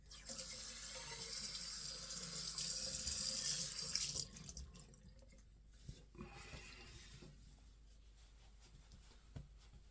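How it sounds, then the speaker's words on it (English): A bathroom tap runs steadily while someone rinses their face, a close hissing stream for about four seconds, then it shuts off, leaving soft splashes and drips. "let me rinse."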